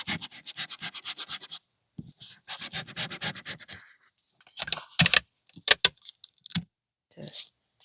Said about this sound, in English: I'm gonna go over them with Sandpaper because I need to have more white edges around them